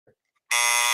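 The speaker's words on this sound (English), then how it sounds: "All right, so that's how the alarm goes off." A vintage General Electric alarm clock goes off with a harsh, loud electric buzz that starts suddenly after a faint voice and small clicks, holding steady for about half a second before cutting out.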